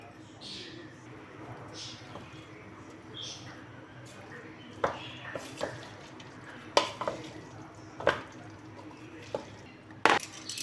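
A jar of mixed vegetable garnish tips into a pasta salad, with a string of soft clinks, scrapes and wet plops spaced irregularly across the clip, close and fairly quiet.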